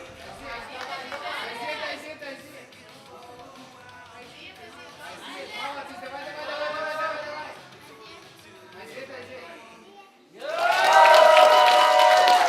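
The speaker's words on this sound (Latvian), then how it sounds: "ko mēs dzirdam pēc publikas ovācijām" Crowd murmur and chatter at a bouldering competition semifinal, the Latvian open championship, swelling into a loud ovation of cheering and applause near the end, with speech over the crowd earlier.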